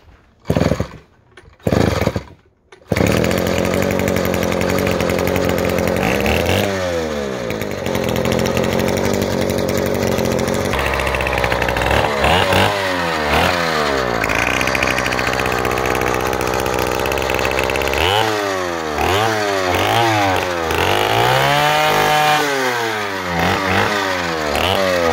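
A homemade 376 cc, 16 hp four-cylinder engine built from Druzhba chainsaw parts coughs through a few short bursts outdoors in cold winter air, then catches and runs loud and raspy, revving up and down repeatedly.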